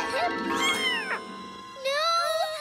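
A cartoon kitten meows several times in quick, high, wavering cries, loud and close, over a soft background.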